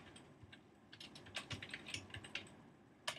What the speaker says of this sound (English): So then you just type whatever you want.